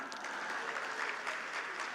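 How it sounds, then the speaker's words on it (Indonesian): Assembled students and families at a school ceremony applaud together, a continuous, even wash of clapping heard at moderate volume from the room. "Ini luar biasa, tepuk tangan."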